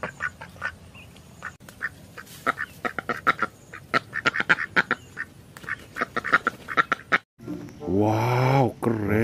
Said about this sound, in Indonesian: Ini ada hewan bebek.